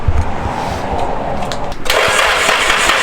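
Nissan S13 coupe with a swapped SR20DET engine cranking and then dying, a loud close rumbling crank that shifts into a brighter, harsher noise for the last second or so.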